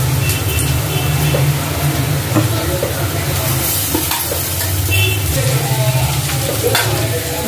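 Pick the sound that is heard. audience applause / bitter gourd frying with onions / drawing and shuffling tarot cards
bitter gourd frying with onions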